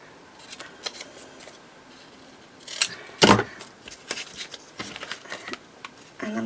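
Scissors cut through book pages for a journal card, a few quiet snips and one sharp, loud crunching cut, with light paper handling around it and no talking.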